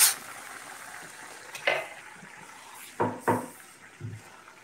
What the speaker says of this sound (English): Now we're gonna throw in our chip beef.